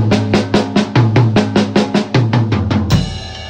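A drum fill played with alternating single strokes, right then left, hits in a quick even run of about a dozen loud, close strikes on drums and ends in a crash cymbal wash.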